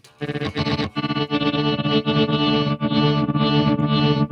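Electric guitar drenched in heavy delay with repeats maxed out, piling into a thick, smeared wash of distorted notes that sustains loudly throughout.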